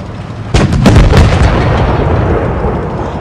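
A tank cannon in World of Tanks Blitz fires a single heavy, close blast, followed by a few sharp cracking bursts, and then a long rumbling decay. No voices are heard.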